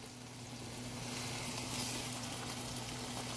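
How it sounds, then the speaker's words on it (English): A chuck roast sears and chars in a hot pan, giving a steady, fairly close sizzle with a constant hiss and no talking. "You should be holding your chuck roast on one of the sides to get or char the sides"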